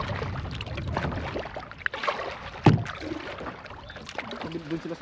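Paddles dip and pull as a canoe moves across Astotin Lake, with soft water swishes and a few knocks against the hull under quiet conversation.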